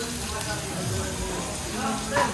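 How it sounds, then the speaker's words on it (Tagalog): Steady frying sizzle with soft bubbling of cheese on a hot grill, close by, with a busy restaurant and faint voices in the background. "Ay, kumukulo na yung cheese, oh."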